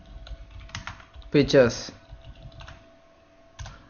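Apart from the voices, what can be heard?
typing on a computer keyboard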